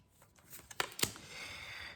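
Tarot cards handled and drawn from a deck, a few soft papery slides and two sharper snaps of cards being pulled, close and quiet with no one talking.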